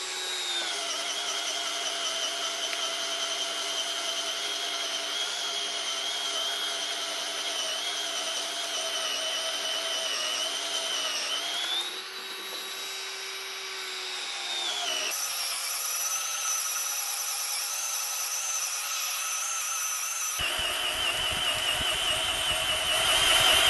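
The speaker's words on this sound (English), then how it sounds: "same post, same auger bit, same test, 2 minutes drilling" A Bosch cordless drill with a 4.0Ah Coolpack battery drives an auger bit into a wooden post, whining steadily and loud for a long stretch, its pitch dipping briefly under load before running on, with no talking.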